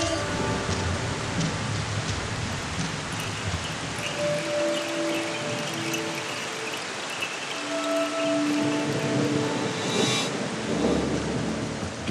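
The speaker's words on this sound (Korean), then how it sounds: "빗줄기가 더욱 거세어지지만" Heavy rain pours steadily on a mountain trail, a dense, loud continuous hiss with deep rumbles of thunder underneath, and no voices.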